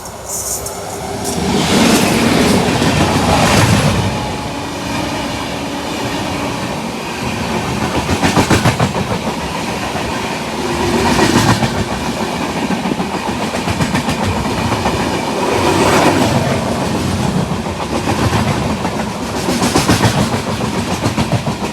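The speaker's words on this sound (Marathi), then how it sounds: "ट्रेन आले समोरून पाहू शकतो" A train roars past close by for a long stretch, its wheels clattering rhythmically over the rails with surging rumbles and hisses.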